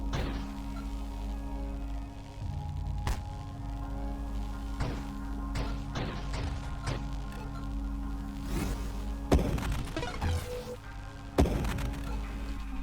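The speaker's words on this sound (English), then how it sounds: "And they explode on death." Enemies bursting apart in the space shooter Nova Drift, a run of sharp thuds and crackling blasts scattered over a steady electronic hum, with a couple of louder explosions near the end.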